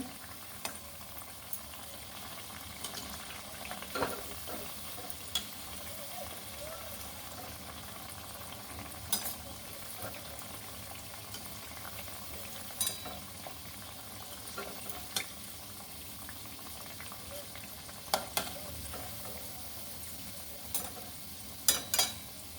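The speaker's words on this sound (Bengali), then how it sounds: "সবগুলো একটু লালচে লালচে করে ভেজে নেব যেন পুড়ে না যায়" Bread pieces fry in a pan of oil for Bengali chitrakoot sweet, a steady soft sizzle running throughout with scattered light stirring clinks and pops, close and even.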